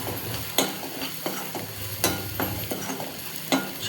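Masala with Kashmiri red chili sautéing in a pan for a whole masoor lentil dish, a low sizzle punctuated by four or five sharp spatula scrapes, close and with no talking.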